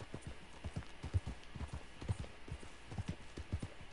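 Horse hooves clip-clop in a steady, even rhythm in a video game, close and clear, over a quiet background with no speech.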